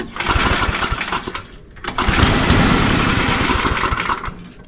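A small gasoline engine cranked on choke, sputtering and catching in a loud, ragged run with a brief dip near two seconds before picking up again, steady rough firing throughout.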